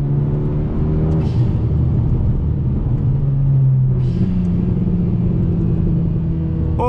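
A Renault Megane RS R26 with a Forge dump valve revs hard under acceleration, a loud steady engine drone with rising pitch, punctuated by two brief hissing bursts.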